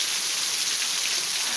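Steady rain falling in Ceará, a dense, even hiss of drops hitting surfaces, loud and close, with no talking.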